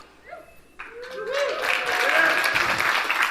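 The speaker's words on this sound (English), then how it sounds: "You don't have to clap for that." Audience clapping breaks out at a festival stage event, starting after a brief quiet moment and swelling into a fairly loud, steady patter with some voices and cheering mixed in.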